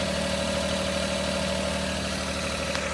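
A Daihatsu Hijet S210P kei truck engine idles steadily up close, its even drone carrying a thin sustained squeal from a loose AC belt, with no talk.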